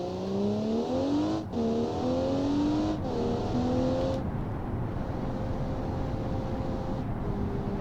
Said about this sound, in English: full throttle to 100 kilometers per hour, and then I will coast at that speed